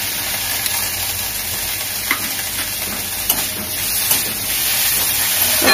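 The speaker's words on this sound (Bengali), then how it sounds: "এটাও একটু ভাজা ভাজা করে নেবো" Ginger, garlic and whole cumin paste frying in a pan gives a steady, close sizzling hiss, with occasional soft scrapes of stirring.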